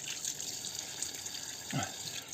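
Cold water runs steadily from a tap in Yellowknife, northern Canada, as a broad, constant hiss, with a brief lower splash or gurgle near the end.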